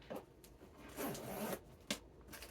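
A handbag zipper is pulled open in a few quick rasping strokes with short pauses between, close and fairly quiet.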